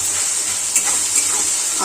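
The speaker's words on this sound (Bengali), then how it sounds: "অল্প তেল দিয়ে পরোটাগুলো একদম মোটা তেলে ভাজি।" Parathas fry in a little oil, giving a loud, even hiss of sizzling oil with a faint low hum underneath and a couple of soft bumps.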